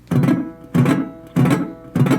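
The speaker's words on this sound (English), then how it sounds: "you want to have one of your fingers gently muting all the strings behind that slide" Four short, clean slide guitar phrases with crisp attacks and quick damped endings, evenly spaced, played close with no voices.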